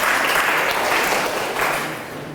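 A classroom audience applauds after a teacher's lesson on series and parallel batteries, a dense, steady patter of clapping that slowly fades toward the end.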